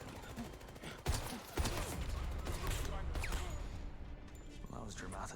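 Gunfire from a video game shootout, sharp shots landing around the one- and one-and-a-half-second marks over a busy, continuous game mix of effects and background noise.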